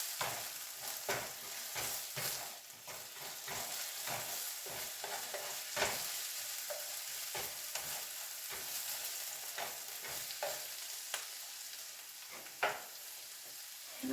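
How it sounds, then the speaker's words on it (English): Onions and vegetables stirred in a hot pan, a quiet background sizzle broken by repeated scraping and clacking strokes of a utensil in an irregular rhythm, with no one speaking. "Let's give this a quick stir"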